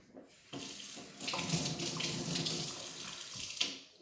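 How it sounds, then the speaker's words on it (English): A carrot washed under a running kitchen tap, steady hissing water stream that changes as the carrot moves through it, close and alone, starting and stopping at the ends. "you need to wash the carrot"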